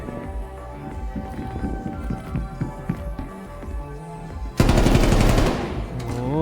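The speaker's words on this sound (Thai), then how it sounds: "เขาจะยิงทุกอย่างเลยจริงๆ ว่ะ" Gunfire rings out in the hide-and-seek game Prop Hunt: scattered rhythmic tapping and movement first, then a sudden loud burst of rapid automatic fire that continues dense and close until the end.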